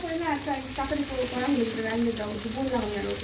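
Onions sizzle and fry in a pan for curry-leaf chowmein, a steady hiss running under ongoing talk and background voices nearby.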